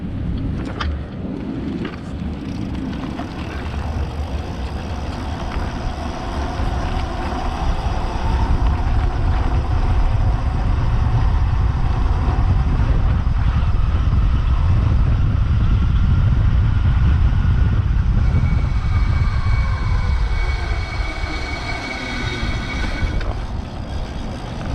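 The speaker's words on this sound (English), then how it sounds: "I'm gonna do it on full throttle so you can kind of get a feel for the bike." A Vintage Electric Scrambler electric motorcycle at full throttle on a straightaway, with a steady roar of wind buffeting the microphone and a faint motor whine rising in pitch beneath it, growing louder through the middle of the run.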